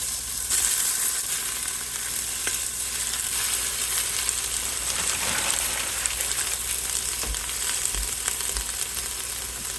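Ground beef frying in a pan with onions and green pepper for goulash, a steady close sizzle that holds evenly throughout, with a few soft clicks and scrapes and no talking.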